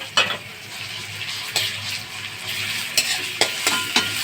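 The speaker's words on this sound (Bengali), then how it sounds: "এটা বেশি সময় ভাজবো না, অল্প একটু সময় ভাজবো।" A paste of garlic, green chilli and cumin fries in hot oil, giving a close, even sizzle broken by several crisp spatula scrapes and taps as it is stirred.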